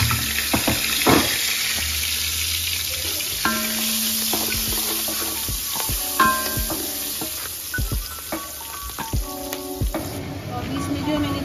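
Spices and green chillies sizzle in a cooking pot for chicken pulao, a steady frying hiss broken by sharp spoon clinks and scrapes against the metal as the mix is stirred.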